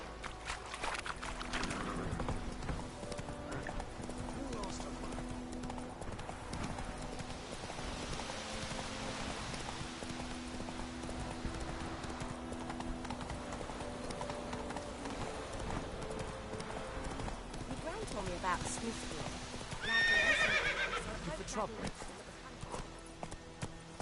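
Geralt's horse Roach in The Witcher 3: Wild Hunt, steady clip-clop of hooves running continuously under the game's ambient music, with a brief louder burst near the end; speech in the background.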